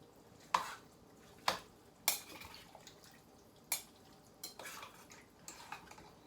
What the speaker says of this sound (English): I'm going to go ahead and stir this up really well.